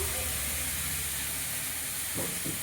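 Green chilies fry in hot oil for a puti fish curry, giving a loud, continuous, close-up sizzling hiss with a couple of faint knocks near the end.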